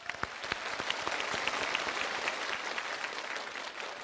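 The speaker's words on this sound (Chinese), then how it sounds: "再一次把掌声送给 Alex。" Audience applause on a stage show for Alex, a breath-hold performer who beat an underwater record, sustained dense clapping with a few sharper claps standing out, steady and fairly loud throughout.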